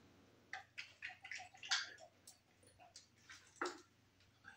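A man takes a drink of water, giving a quick series of close gulps, swallows and wet mouth sounds in an uneven rhythm, with no talking.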